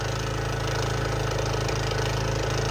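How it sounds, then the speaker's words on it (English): A Craftsman LT 2000 lawn tractor engine runs at a steady idle, burning old gasoline. The chugging is close, even and loud, with no talk over it. "I'm just going to burn that old gas out of it since it's running good."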